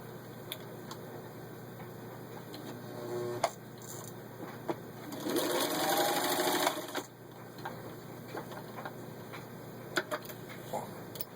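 A vintage 1950 Singer 15-91 sewing machine stitching through a thick 1/8 inch leather belt, a brief close whirring run of stitches between quieter mechanical ticks and clicks.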